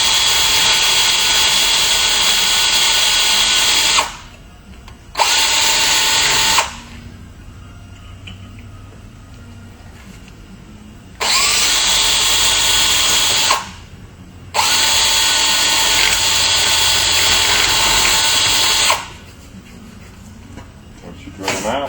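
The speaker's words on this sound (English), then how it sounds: "you just take the drill bit and you open them up and go from one to the next" A power drill runs in long loud bursts with short pauses between them while bits open up a row of drainage holes, the motor steady and whining during each pass.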